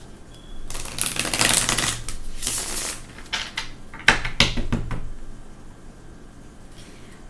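A deck of Gilded Tarot cards is shuffled close up, with bursts of rapid riffling and slapping card flutters, then softer taps before it goes quiet.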